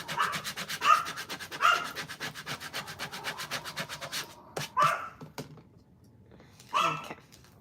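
Vinyl decal being burnished onto a water bottle with a scraper tool, heard as rapid rhythmic rubbing strokes that come in bursts, close up and fairly loud, with short pauses between passes.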